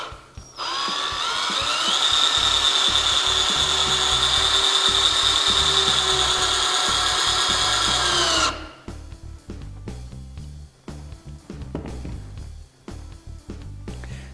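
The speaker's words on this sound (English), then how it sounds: "I will put the screw into the wood and it will not split the wood." A power drill drives an R4 screw into pressure-treated lumber without pre-drilling, whirring loud and steady for about eight seconds before stopping abruptly, followed by scattered handling knocks and clatter.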